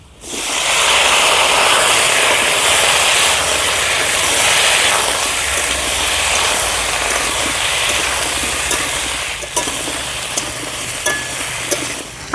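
Fried potatoes and cut raw banana tumble into a hot pan for a village-style rohu fish curry, setting off a loud, steady sizzle and hiss that holds throughout with occasional soft stirring scrapes.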